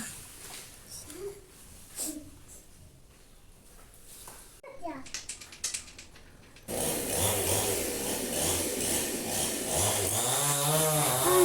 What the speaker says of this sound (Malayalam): നമ്മൾ മരം മുറിക്കാനായിട്ടോ